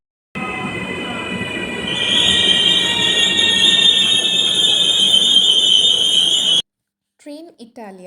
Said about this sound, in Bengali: ট্রেন ইটালিয়া চলে এসেছে পাডোভা স্টেশনের 2 নম্বর প্ল্যাটফর্মে।